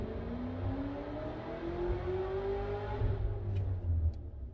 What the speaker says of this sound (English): That was the car on the dyno.